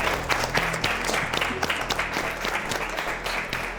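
A studio audience on a comedy talk show claps in sustained, even applause, a thick wash of hand claps heard close and loud throughout, with no speech over it.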